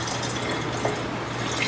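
Willow bark tincture pours from a large Pyrex pitcher in a steady trickling stream of liquid, soft and close with faint droplet splashes, no voices.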